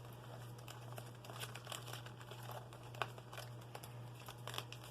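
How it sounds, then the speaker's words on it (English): A paper envelope holding money is handled during a home board game night, giving soft crinkling and rustling with a small tap, quiet and close over a steady low hum, with no talking. "So let's grab a 5 out of there and grab that envelope."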